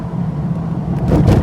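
A TVR Chimaera on the road, its engine giving a deep, loud, continuous rumble that swells slightly toward the end with no voices.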